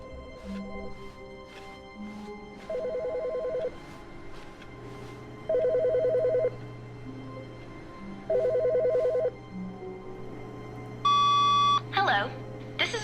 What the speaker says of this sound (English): Oh, is that phone again?